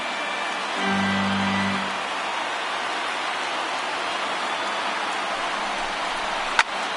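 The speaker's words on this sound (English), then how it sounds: "it's pouring out there right now" Heavy rain pours steadily over an afternoon baseball game at the Giants and Pirates stadium, a dense continuous hiss with a brief low tonal hum near the start and a sharp click near the end.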